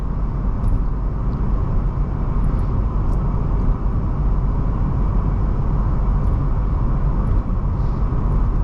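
A BMW Z4 driver's car on the move, a steady low engine and road drone with tyre rumble heard from inside the cabin, constant and fairly loud.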